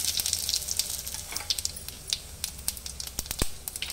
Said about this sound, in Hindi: ऑयल में मैं ये तेज़पत्ता और जीरा का तड़का दूंगी।